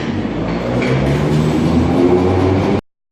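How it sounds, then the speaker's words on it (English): A London Underground train rumbles and hums loudly as it pulls away, a steady roar that cuts off abruptly near the end. "We're just waiting for a train to leave now."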